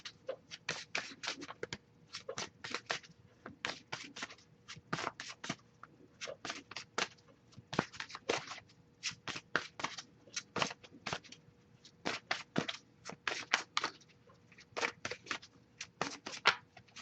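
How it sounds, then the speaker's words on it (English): Tarot cards being shuffled by hand, quiet close riffling and flicking in irregular bursts throughout, with no voices. "I'll shuffle a little bit more to see if we get anything"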